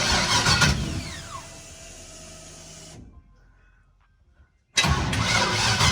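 A 5.3L Chevy S10 with a voltage fault cranks and starts with a loud, close mechanical whir, cuts to near silence for a couple of seconds, then abruptly roars back at full loudness.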